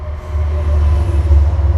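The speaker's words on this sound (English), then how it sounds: "There goes the train. I love that sound so much." A train passes close by outdoors with a loud, steady low rumble and rolling rail noise throughout, no voices over it.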